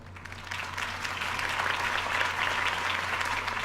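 A crowd at a Harvey Dent campaign rally in the video game Batman: The Telltale Series claps steadily. The dense applause rises slightly and holds through the whole stretch.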